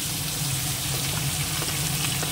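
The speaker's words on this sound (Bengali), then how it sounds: "মাছগুলো আজকে একটু হালকা ভেজে তুলে নিই।" Pieces of fish fry lightly in hot oil in a home kitchen, a steady close crackling sizzle throughout the short stretch, with no voices over it.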